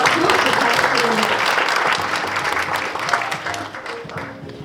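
Warm applause from an audience at a formal Korean semiconductor industry forum, a thick continuous clatter of many hands that gradually thins, with an announcer's voice faintly beneath.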